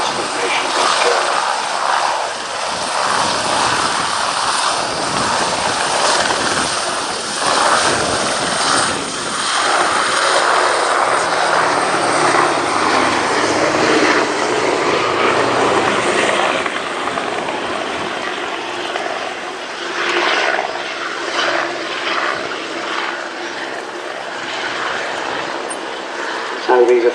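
Aircraft engines drone past at the 2017 Cosford airshow in a loud, steady roar that swells and fades slightly over half a minute, with a voice talking over it.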